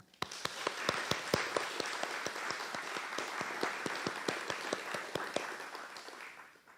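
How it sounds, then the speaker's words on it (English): Press-conference audience applauding the launch of a skilled-employment program: a moderate crowd clapping with sharp, distinct individual claps standing out, steady throughout and fading slightly at the end. "Join me in a round of applause in celebration of the launch of RISE"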